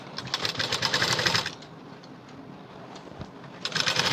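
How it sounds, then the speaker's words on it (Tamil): A sewing machine stitches a hook strip on a 36-inch high-neck blouse in two fast, whirring runs, one at the start and one at the end, with a quieter pause between them. "இந்த மாதிரி அந்த கட் பண்ண பீஸை இந்த லெஃப்ட் சைடு போர்ஷன் மேலே வச்சு நீங்கள் ஸ்டிச் பண்ணுங்கள்."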